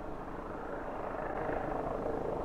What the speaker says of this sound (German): Da ist das ein Heli, der genau, aber kerzengerade in der Luft steht